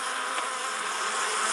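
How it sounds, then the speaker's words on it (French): Dense, steady buzzing of thousands of worker honeybees and some drones swarming close by, a continuous droning hum with no pauses and no voices. "des milliers d'abeilles ouvrières et quelques mâles, les faux bourdons, commencent à explorer leur nouvel environnement"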